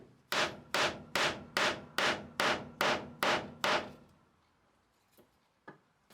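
A wooden carver's mallet strikes a wide plastic chisel eight times in a steady, even rhythm, each hit a sharp, loud knock with a short ring. A couple of faint knocks follow after a pause.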